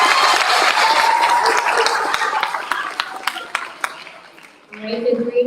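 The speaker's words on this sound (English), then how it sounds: "Let's give Mrs. Long a round of applause" Audience applause for a teacher at a school class event, dense clapping that starts loud and slowly thins out into scattered claps before a voice takes over at the end.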